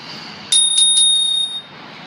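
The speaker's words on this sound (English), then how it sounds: "Next, I want to do my bell." A bicycle bell on a fixie bike rings close up, three quick bright dings merging into a sustained metallic ring that fades after about a second.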